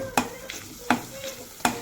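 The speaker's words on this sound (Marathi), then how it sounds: "थोडंसं फ्राय करते." Bay leaf, cardamom and cloves are stirred in a hot pan over a soft sizzle. Three distinct scraping strokes of a spoon land at a steady pace, close and fairly clear, with a few lighter clinks in between.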